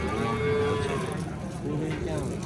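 A cow moos in a long, drawn-out low call at a busy livestock market in Andijan, close and loud, with faint background noise and no clear talk over it.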